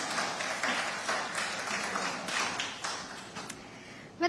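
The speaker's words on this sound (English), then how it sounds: "Big round of applause, ladies and gentlemen." Audience at a business conference applauding, a steady mid-distance patter of many hands clapping that thins and fades toward the end.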